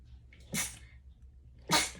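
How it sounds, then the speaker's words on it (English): Two sneezes close to the microphone, a second apart, each a sharp burst of breath in an otherwise quiet room. "Excuse me. I'm sneezing."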